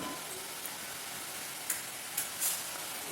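Pearl millet murukku dough frying in hot oil, a continuous soft bubbling sizzle with a few brief sharper crackles and pops.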